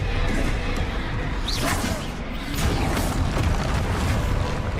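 A Confringo blasting spell goes off in Hogwarts Legacy amid a dense, continuous din of whooshes and explosive booms during a magical duel, loud and close, with a voice faintly present.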